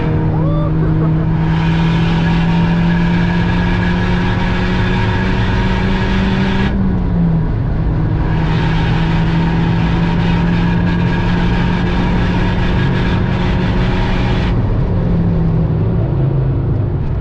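Volkswagen Polo WRC rally car engine revving hard and accelerating from inside the cabin, a loud sustained drone that climbs in pitch, drops briefly at a gear change, then climbs again.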